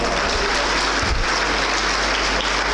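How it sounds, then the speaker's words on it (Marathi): Students in a classroom at a maths coaching class clap for their teacher, a dense, continuous burst of applause that stays steady and loud for the whole stretch. "आपल्या गायकवाड गुरुजीसाठी एकदा सर्व विद्यार्थ्यांनी टाळ्या वाजवा"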